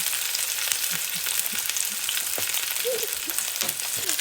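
Chicken breast and corn frying in a pan for a corn chicken soup, a steady close sizzle with scattered pops and light stirring scrapes, continuous and without any talking.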